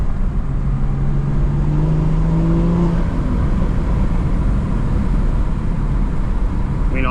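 A BMW 440i fitted with a MAD intake and turbo inlet, its engine droning loud and steady close by, with a brief rising whine early on and no talk.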